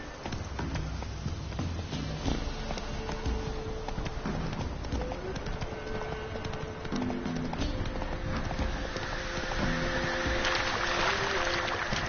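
Horse hooves clip-clop steadily in The Witcher 3 as the horse Roach is ridden, the footfalls blending with music and ambient game sound, with a rider's voice urging the horse on at moments.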